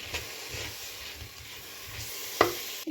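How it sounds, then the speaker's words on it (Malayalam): Spice powders stirred into hot oil for chicken mappas, a low steady sizzle with soft rhythmic scraping strokes and a sharp metallic clink near the end, close and unaccompanied by speech. "പൊടികളെല്ലാം ഒന്ന് ചേർത്ത് ഇളക്കി ഇളക്കണം"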